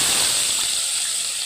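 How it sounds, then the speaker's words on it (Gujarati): Tempering (vaghar) crackling and hissing in hot oil for a Gujarati stuffed brinjal curry, a steady close sizzle that fades slightly toward the end, with no talking. "હવે આપણે વઘાર કરી નાખીએ આનો"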